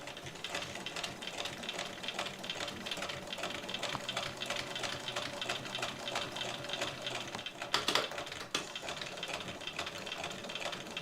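A sewing machine set to stitch length 2.5 sews a bag strap, backstitching at the start and end, with a steady rapid whirring stitch rhythm and a brief clunk near the end.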